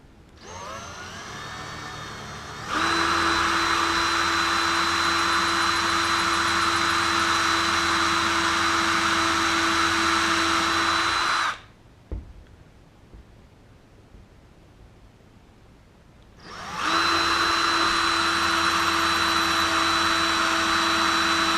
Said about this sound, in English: And now we're going to pre-drill those holes